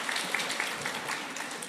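A church congregation claps during a sermon, giving a short, moderately quiet patter of many hands that stays steady throughout, with no speech over it.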